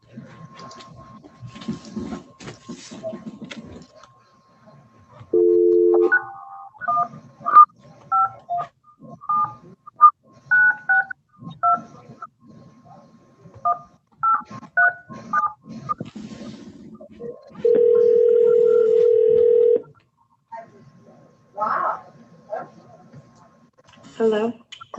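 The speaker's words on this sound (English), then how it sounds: "Let me try that phone number now again." Telephone keypad dialing during a video-conference court hearing: rapid runs of short DTMF beeps broken by two longer steady tones like a dial tone, fairly loud and close, with faint voices now and then.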